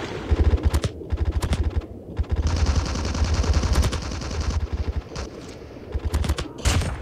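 Rapid machine gun bursts in the mobile shooter Call of Duty Mobile, loud clattering volleys repeating in short strings with brief pauses between, dense sustained fire through the middle.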